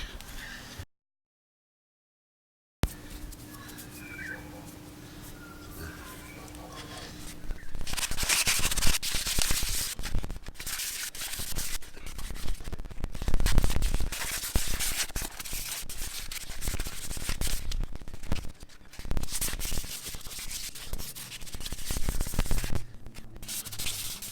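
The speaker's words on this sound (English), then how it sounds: "Now I just bought a 120 grit sanding flap disc." A coarse 120-grit flap disc grinds against pitted metal on a Harley fork, coming and going in long passes, harsh and broadband, after a brief silence near the start.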